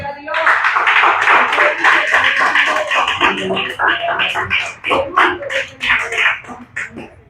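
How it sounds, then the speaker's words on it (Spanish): A church congregation applauding during a Spanish-language service: a burst of many hands clapping that thins into sparser, irregular claps, with voices calling out over it. "Dale un aplauso a Cristo"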